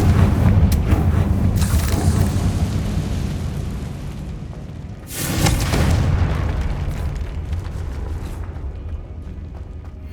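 Two explosive fire spells detonate in a magic-school action-adventure game: a heavy boom opens and rumbles on for several seconds, then a second sharp blast hits about halfway through and its rumble gradually fades away. No speech is heard.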